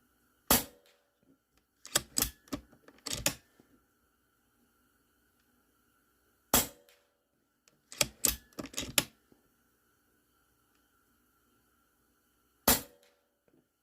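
A DAR GEN-3 .22 PCP air rifle empties a full magazine: sharp, close cracks arrive singly and in quick bursts of three or four, separated by pauses, with no talk.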